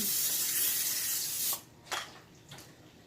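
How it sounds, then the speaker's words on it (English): A short burst of olive oil spray hissing close by onto a pan for about a second and a half, followed by a couple of faint softer sprays. "I'm just going to get a little tiny bit of olive oil spray."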